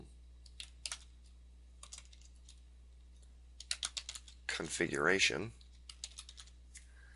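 Typing on a computer keyboard at close range, scattered clicks and short bursts of keystrokes, faint and intermittent, with someone briefly speaking partway through.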